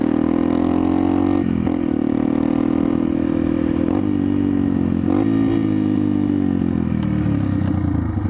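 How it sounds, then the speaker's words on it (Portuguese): A Yamaha XTZ 125 motorcycle engine drones steadily at a constant, loud pitch, with slight rises and occasional rattles, as if heard while riding. "estamos testando a XTZ 125"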